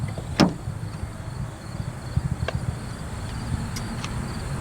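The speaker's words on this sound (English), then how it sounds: "to get inside the vehicle, you just press the silver button to unlock" A 2022 Infiniti QX80's doors unlock from the key fob with one sharp mechanical clunk early on, followed by a few faint ticks over a quiet outdoor background with soft insect chirping.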